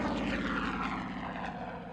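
A World War II-era FG-1D Corsair fighter with a solid-running radial piston engine drones steadily and loudly, a continuous propeller throb with no voices over it.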